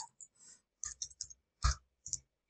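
Computer mouse clicks, several sharp close taps in an irregular cluster, some doubled, with one louder click near the middle and short pauses between them, no talking.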